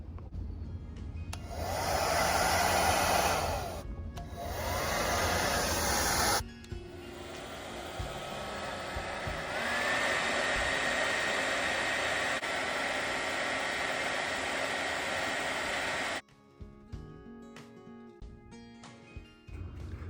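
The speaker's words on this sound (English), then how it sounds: "this should really only take like a minute or two with the hair dryer, because the vinyl is going to get really soft and easy to cut" A hair dryer blows on a vinyl Funko Pop head, a loud steady whooshing roar that cuts out briefly, resumes for several seconds at a slightly different pitch, then stops, leaving quieter handling noises.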